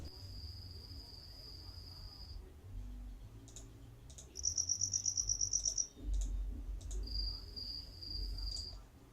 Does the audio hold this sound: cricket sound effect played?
yes